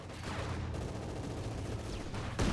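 Continuous battlefield gunfire from Company of Heroes 2, with rattling shots over a low rumble, moderately loud throughout and a sharper burst near the end.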